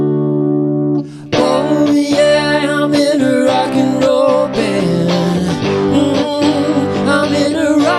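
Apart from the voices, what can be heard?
VoiceLive 3 fixed vocal harmony effect holding one note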